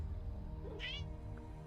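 A person voices a single short, high meow, imitating a cat while playing World of Warcraft. The meow is brief and fairly faint over a low background hum.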